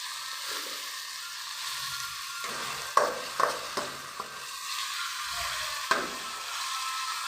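Tomatoes frying in a pan give a steady close sizzle, broken by a few sharp clicks and scrapes of stirring, with no voices.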